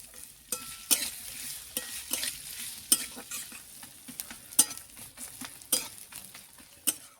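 Onion frying in oil with cardamom, cloves, cinnamon and green chillies, a steady sizzle broken by repeated scraping stirs of a spatula against the pan, close and clear with no talking.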